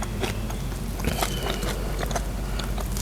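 Close, crisp bites and crunchy chewing of hot rice with fiery Thai chili paste wrapped in seaweed, in a steady run of small crackles with no talking.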